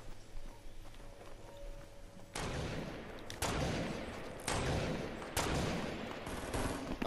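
Gunfire in Fortnite: several loud broadband bursts with sharp onsets, each sustained for about a second, following a quieter stretch of game background with no talk.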